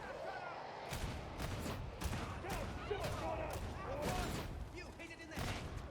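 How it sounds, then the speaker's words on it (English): Bolter fire from a Veteran in the Warhammer game Darktide, heavy repeated gunshots in rapid bursts clearing a room, loud and close, with chaotic combat noise and some voices mixed in. "I think that is a nice effective clearing of the room with the bolter"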